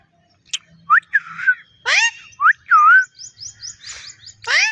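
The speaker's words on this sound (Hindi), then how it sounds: "सीटी सीटी मार, सीटी मार।" A pet parrot whistles on command, giving a run of bright rising and falling whistles and quick chirps close to the microphone, with short pauses between phrases.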